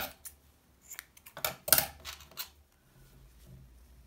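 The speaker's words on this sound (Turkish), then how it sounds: "Fazlalığı kesiyorum yine." Small scissors snip excess yarn from a knitted baby bootie, a few quick close metallic clicks with one sharper snap in the middle, alone with no talk.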